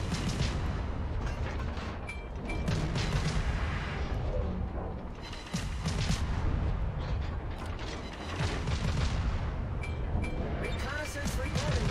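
Akizuki destroyer guns firing in the video game World of Warships, repeated booming salvos and mechanical clatter throughout, with someone talking over the gunfire.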